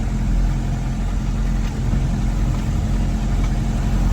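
A Ford Transit MK1 diesel engine chugs steadily while towing a trailer, a continuous low, loud rumble with little variation and no talking.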